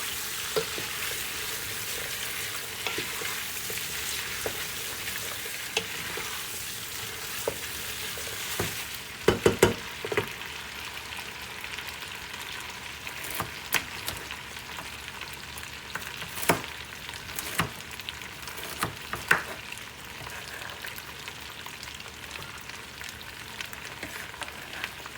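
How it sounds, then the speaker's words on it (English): Diced vegetables and potatoes for lentil soup sizzle gently in a pot while being stirred, a steady low frying hiss with scattered soft scrapes and clicks from the spoon. "Give it a nice stir."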